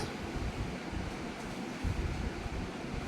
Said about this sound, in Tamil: இப்போ கனவா நல்லா கொதி கொதின்னு கொதிச்சு வருது பாருங்க வேகட்டும்